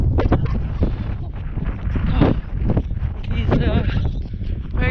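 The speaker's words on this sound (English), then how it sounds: "It's very windy." Strong wind buffeting the microphone outdoors on a farm, gusty low rumbling bursts throughout while a person talks breathlessly during a jog.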